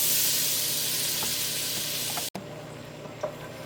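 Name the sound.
butter melting and sizzling in pasta pot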